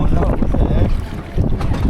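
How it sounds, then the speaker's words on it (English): Strong Icelandic wind buffets the microphone in loud, rumbling low gusts that roar continuously and surge near the end, with no clear talk. "It's windy."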